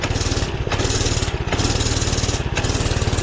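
A Doodle Bug mini bike engine runs flat out climbing a hill, a loud, close, buzzing drone that dips briefly a few times before surging again.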